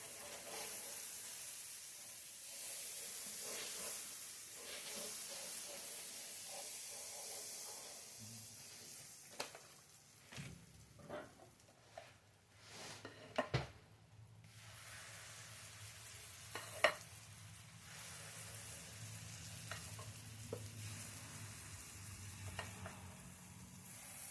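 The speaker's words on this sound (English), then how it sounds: "let's see how many pancakes we can get on this griddle" Banana pancakes fry in butter on an electric griddle with a steady, close sizzle; several sharp clicks and taps of a utensil cut through about halfway, and a low hum rises beneath the frying.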